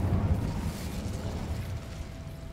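A fire spell cast in the video game Hogwarts Legacy bursts with a dense, steady rush and crackle of flame, loud and broadband from start to finish, with no one talking over it.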